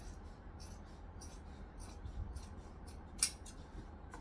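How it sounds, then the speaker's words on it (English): Scissors snip through excess fabric along the sewn edges of a tote bag in a quiet series of regular, faint cuts, with one sharper click near the end and no talk. "I'm gonna take some scissors and I'm gonna cut off most of the excess"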